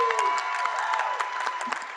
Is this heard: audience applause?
yes